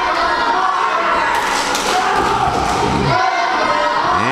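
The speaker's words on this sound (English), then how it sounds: "Crowd getting behind Harker Dirge, as they often do." A wrestling crowd at a UWC match roars steadily behind wrestler Harker Dirge as he sits in a chin lock, a loud, dense wall of cheering and shouting with occasional thuds, continuous from start to finish.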